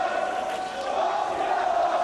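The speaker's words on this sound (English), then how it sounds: "Walking along in a Taylor Wonderland, the crowd sing." A darts crowd at the UK Open in Bolton's Reebok Stadium sings together in a steady, dense roar that fills the whole moment without pause.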